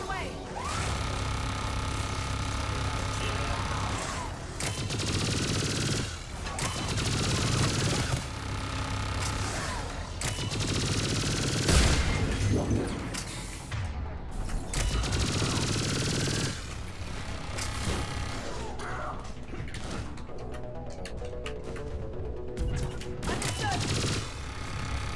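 Turret gunfire in Mass Effect 3 comes in repeated rattling bursts amid dense game noise and mechanical clatter, loud and continuous throughout, with a player talking over it.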